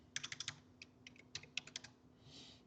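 Quick bursts of computer keyboard typing while JavaScript code is written, close and crisp: a rapid run of clicks, a few separate taps, then another flurry, with no talking.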